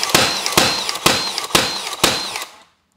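An air gun fires five sharp, evenly spaced cracks about half a second apart, each followed by a brief hiss of refilling air, close and loud before the sound cuts off.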